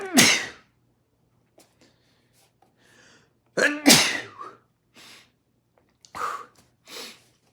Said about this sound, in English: Just sneezing randomly.